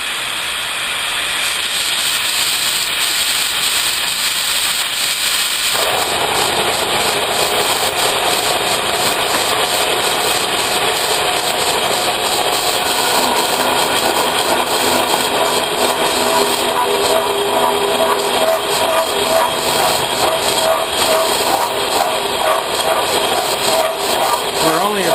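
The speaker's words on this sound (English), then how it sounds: "So we're going to turn on our coolant." A spline-cutting machine runs with its coolant flowing, a steady broadband hiss and mechanical drone that thickens noticeably after a few seconds and continues evenly.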